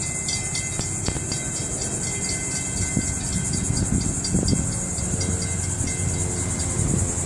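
Florida East Coast Railway train 202 rolling past, steady rumble and rail clatter with scattered clanks and a high metallic squeal, fairly close and continuous, no voices.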